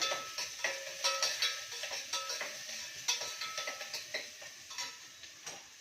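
Onions frying in a pan until browned for a spinach biryani, steady close sizzle with repeated scraping stirs and utensil clicks throughout, no voices.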